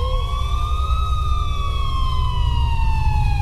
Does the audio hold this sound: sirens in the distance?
yes